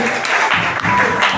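A church congregation claps and cheers in acclaim of Jesus during a service, a brief, dense burst of many hands that holds steady and close for about a second and a half.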